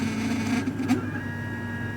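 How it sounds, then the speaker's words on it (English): A stepper motor in a mechatronics demonstration rig whines with a steady electronic hum and tonal buzz, close and fairly quiet, briefly shifting pitch as it moves. "we're controlling the position of the stepper motor"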